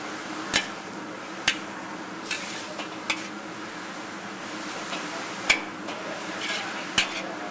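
Cabbage stir-fried in a hot pan for hot and sour soup, a steady soft sizzle punctuated by sharp clinks of a utensil against the pan every second or so, with no talking.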